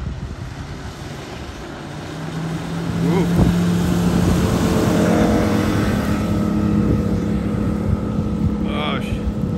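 A Key Largo 2100 walk-in boat with a 150 four-stroke Suzuki outboard climbs onto plane, its engine drone building and holding steady as it passes fairly close, with a brief voiced exclamation.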